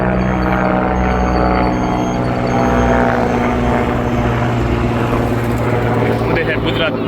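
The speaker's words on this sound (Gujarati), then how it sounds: "મોદી સાહેબનું હેલિકોપ્ટર" A helicopter flies overhead, its loud, continuous rotor and engine roar filling the whole stretch with a steady throb and little change in level.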